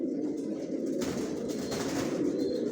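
Racing pigeons in a loft give low, continuous cooing. The dense murmur of several birds is fairly close, with a steady rustling wash over it and no voices.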